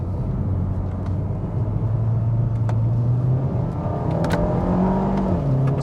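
Cabin of a 2020 Hyundai Veloster accelerating hard in manual mode with some wheel spin, the engine drone climbing in pitch, dipping at a gear change and rising again, loud and close.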